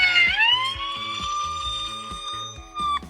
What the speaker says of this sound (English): So we're gonna use the siren and hopefully his dog will howl and we'll find him.